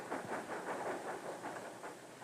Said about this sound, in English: He hears the train coming into the station and knows he can't linger anymore.